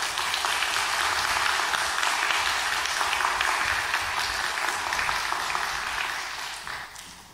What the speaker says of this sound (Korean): 우리 목사님 나오실 때 큰 박수로 환영해 주시고